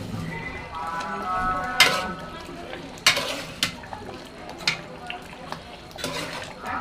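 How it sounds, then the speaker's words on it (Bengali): Beef being sautéed in a pot, with a low sizzle under repeated metal clatters and scrapes of a spoon against the pot, while voices murmur in the background. "এই যে কষানো হইতেছে মাংসটা।"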